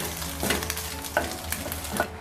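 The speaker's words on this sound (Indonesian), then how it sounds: "Goreng telur sudah kurang lebih matang ya teman-teman" An egg fries in hot oil, giving a close, constant crackling sizzle broken by three sharper stirring or scraping accents spread evenly across the sound, with no voices.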